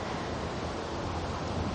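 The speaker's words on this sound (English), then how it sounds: "Just got a weird wind gust." Steady roar of wind buffeting the microphone on an open golf course during an LPGA tournament round, a continuous broadband rush with no distinct gusts and no voices.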